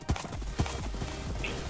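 Horse hooves clip-clop through a video game race, a few heavy hoof thuds standing out over a steady rumbling background, with a faint whinny-like tone near the end.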